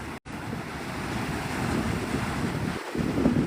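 Steady broadband rush of wind buffeting the microphone at sunrise on Navarre Beach, Florida, mixed with surf washing nearby, continuous and fairly loud with a brief dropout near the start.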